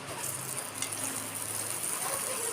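About three spoons of butter sizzle and crackle steadily in a hot pan, a soft continuous hiss with faint clicks, no voices present.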